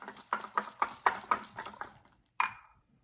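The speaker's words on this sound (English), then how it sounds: "Give it a mix." A spoon stirs sugar into eggless microwave cupcake batter, clinking against the bowl in about seven quick rhythmic strokes, then a single sharper clink after a short pause, with no talking.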